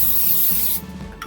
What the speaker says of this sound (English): So I'm going to take some cooking spray